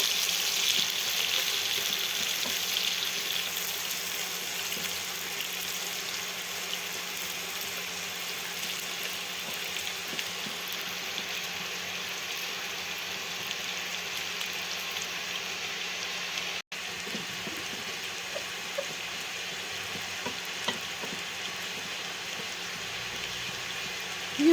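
Onions fry in oil with a steady, broad sizzling hiss that runs unbroken throughout, fairly close and without any talking.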